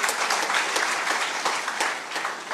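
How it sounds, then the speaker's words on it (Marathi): Dense, sustained applause from a crowd at a political rally speech, loud and continuous throughout with no voice breaking through. "टाळ्या कसल्या"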